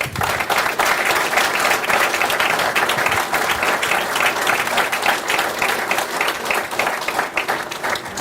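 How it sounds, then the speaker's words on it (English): Sustained applause fills a fire department swearing-in ceremony, dense clapping from a large crowd that holds steady and loud for several seconds without pause. "Can we get a round of applause for these guys?"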